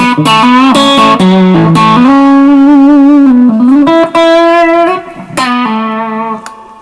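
Loud electric guitar through a Japanese-made Vestax overdrive pedal playing a sustained, bending melodic phrase with warm, gritty, non-vintage distortion, short pauses between notes, no talking.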